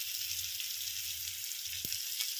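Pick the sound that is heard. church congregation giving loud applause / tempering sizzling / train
tempering sizzling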